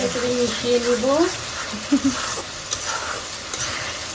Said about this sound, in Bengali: এখন একটু নাড়াচাড়া নাড়াচাড়া করে দিব মশলাটা কষাতে নাড়াচাড়া করে দিব